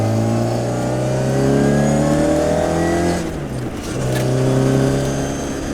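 A 1968 Austin Mini Cooper engine revs and accelerates loudly nearby, pitch climbing through the gears with a brief dip at a shift before pulling hard again.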